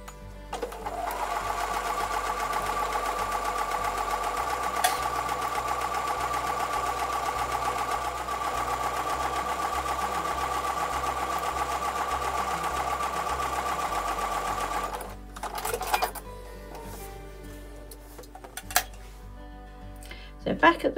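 A sewing machine runs steadily for about fifteen seconds, stitching two seam lines on a Tiara Crown quilt block, its motor hum loud and close, then stops; light clinks and handling noises follow.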